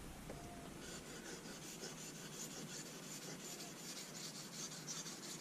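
A straight razor drawn steadily across a sharpening stone, one side of the blade honed with light, even pressure; a continuous soft rasping scrape, close and fairly quiet, with no talking.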